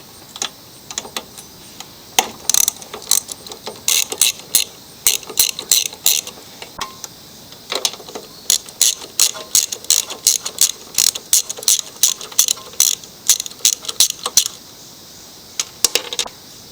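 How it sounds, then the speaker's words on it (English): A ratchet wrench turns the 3/8 bolts and 7/16 nuts off a salvaged Yard Machines lawn mower, its quick clicking coming in close, loud bursts with short pauses between strokes. "Next step, we want to get these bolts and nuts out"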